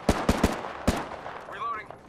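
Gunfire from Apex Legends, with four sharp broadband shots in an uneven burst, then quieter game sounds and a faint tonal effect toward the end.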